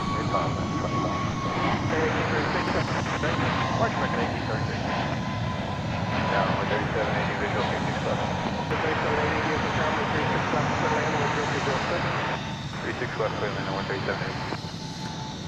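Jet airliners departing northbound from DFW Airport produce a loud, continuous engine roar that stays steady throughout, with a slight drop near the end; people talk over it.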